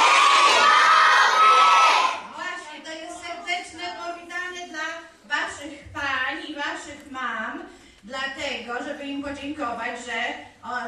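Children at a library get-together shout a greeting together in one loud, brief burst at the start, then an adult speaks on over a quieter room.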